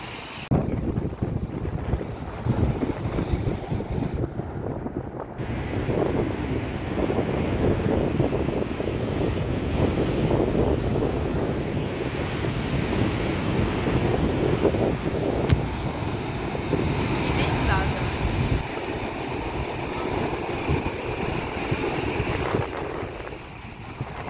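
Strong, steady wind buffeting the microphone at Kilimli Cove on the coast, with a constant roar and faint wave wash underneath, no voices.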